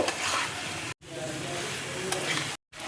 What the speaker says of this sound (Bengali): মশলাটা দেখো ভালো করে কষিয়ে নেব